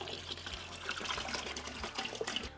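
Cold refrigerated water poured into a 5-gallon pail for turkey brine, a soft, steady splashing and gurgling stream with some uneven bubbling, quiet and close with no talk.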